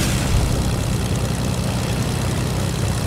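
Constant propeller aircraft engine drone in a video game, loud and unvarying with a low rumbling hum throughout, and no voices over it.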